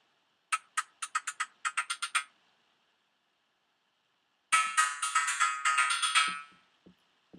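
Percussive sound through a modulated short delay with feedback turned up: a rapid run of sharp, evenly spaced hits, a pause, then a dense, smeared, ringing burst that swells and fades, with a few faint trailing ticks.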